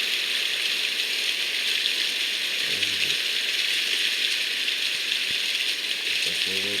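Steady rain falling on a farm, a constant even hiss with no pauses and a few faint low knocks in the background.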